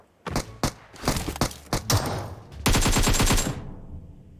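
Bursts of automatic gunfire in the mobile battle royale game PUBG Mobile: several short separated volleys, then a sustained rapid rattle near the end, loud and close with no talking.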